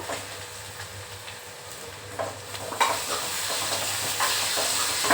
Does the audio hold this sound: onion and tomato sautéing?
yes